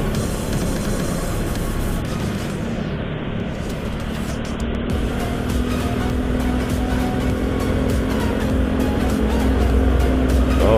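Heavy traffic on a busy arterial road near Porong and Gempol keeps up a dense, continuous roar, with big trucks rumbling past under steady wind noise on a moving motorbike.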